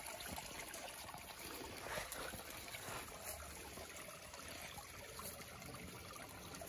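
Water trickles in a creek with a steady, soft, hissing flow heard up close, with no talking.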